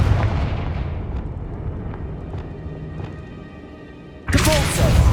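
A Confringo spell explosion in the video game Hogwarts Legacy bursts out suddenly and loudly near the end, after a quieter stretch of low rumbling game ambience with faint scattered effects.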